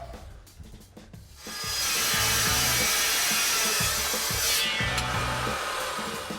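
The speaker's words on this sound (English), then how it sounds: "So over to the chop saw we go." A chop saw cuts through a metal tube, starting with a few light mechanical clicks before a loud, sustained grinding shriek takes over and holds steady for several seconds.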